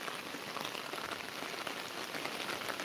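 Heavy monsoon rain pours down in Konkan near a flooding river, a constant soft hiss of dense drops without any talking.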